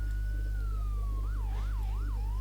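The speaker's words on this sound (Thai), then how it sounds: "อ๋อ รถดับเพลิง" A fire truck siren in Roblox Emergency Response: Liberty County wails in a long slow sweep, then switches to quicker rising-and-falling yelps over a constant low electrical hum.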